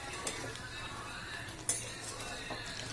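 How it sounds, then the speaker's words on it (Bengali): Jujube pickle bubbling and being stirred in a pot, with quiet scraping and a couple of soft utensil clinks against the rim, fairly faint and steady. "এবার মিশিয়ে দিয়ে কিছুক্ষণের জন্য আবার কুলটাকে ফুটিয়ে নেব"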